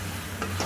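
Brinjal sautés in a pan with a short, steady sizzle and a light scrape of stirring, close and fairly loud.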